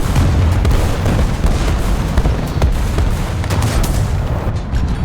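A tank in War Thunder, a Panzer III, takes an enemy shell hit amid loud, dense booms and cannon fire, with heavy low rumbling impacts repeating over several seconds.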